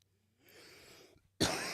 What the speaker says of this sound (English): I'm sorry I keep coughing in your guys' ears.